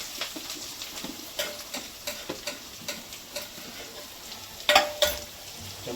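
Chopped onion and small cut green chili frying in a pan on low gas, with a spoon stirring in repeated light scrapes and clinks over a steady background sizzle, a sharper clatter near the end.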